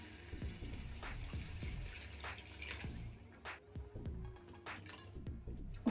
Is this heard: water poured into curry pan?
yes